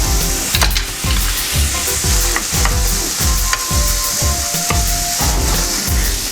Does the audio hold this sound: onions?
yes